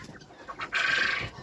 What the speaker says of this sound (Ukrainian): О, ну знову лізуть. Вредні кури.